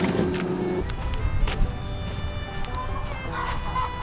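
Young chickens in a homestead backyard run, kept apart from the older hens, clucking faintly and intermittently over a steady outdoor background, with a passing car adding low rumble.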